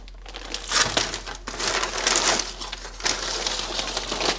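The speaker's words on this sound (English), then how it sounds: "Let's get this plastic off." Plastic sheeting torn and pulled off a chimney sweeping setup gives loud bursts of crinkling and rustling in several uneven pulls, close by, with no speech.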